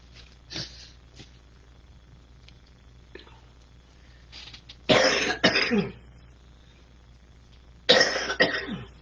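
A person coughs several times: a few faint short coughs early on, then two loud, harsh bursts of coughing close to the listener, with quiet between.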